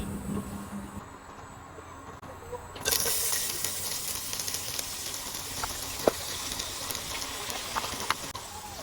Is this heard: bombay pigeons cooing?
no